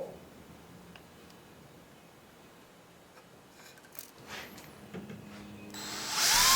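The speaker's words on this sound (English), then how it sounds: "We drilled the aluminum trim piece mounting holes with our new Porter Cable 20-volt hammer drill." A Porter Cable 20-volt hammer drill bores mounting holes in an aluminum trim piece for a truck grille. After a quiet stretch with faint handling noises, a sharp, loud burst of drilling rises right at the end.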